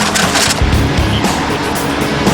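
An old Pinky off-road military vehicle, heavy and without power steering, drives past close by with a loud rumbling engine and rough rattling over terrain, continuous for a couple of seconds.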